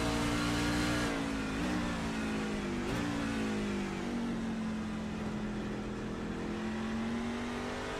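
Onboard engine of the number 8 racing truck in iRacing, a loud sustained drone that drops on downshifts, wavers, then climbs steadily as it accelerates, with no talk.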